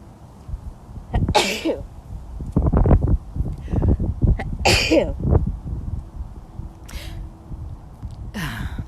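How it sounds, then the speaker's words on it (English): Several abrupt sneezes burst out in quick succession, close and loud, with breathy sounds and faint voice between them. "I'm going to sneeze"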